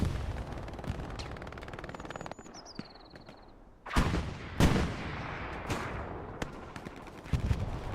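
Rifle fire from an STG assault rifle in the World War II shooter Hell Let Loose, a few sharp distant cracks and booms scattered over battlefield ambience with rumbling impacts, no talk.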